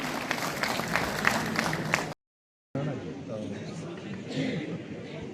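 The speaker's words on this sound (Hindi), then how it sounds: "तालियां जोरदार।" An audience at a national-level sports conference in Greater Jammu applauds in a dense, continuous patter, briefly cut to silence, then resuming more softly.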